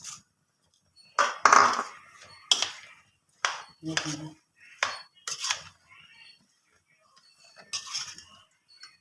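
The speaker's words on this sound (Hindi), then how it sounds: "तो इन सब चीज़ों को हम अच्छे तरीके से मिक्स कर लेंगे।" A spoon mixes cream chaat ingredients with powdered sugar in a bowl, producing a series of separate clinks and scrapes against the dish with quiet gaps between them.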